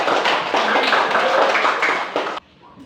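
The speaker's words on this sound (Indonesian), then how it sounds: "Kita beri tepuk tangan untuk kelompok." Classroom applause for a student group after their presentation: a dense burst of many hands clapping together, loud and steady for about two and a half seconds before cutting off abruptly to quiet room noise.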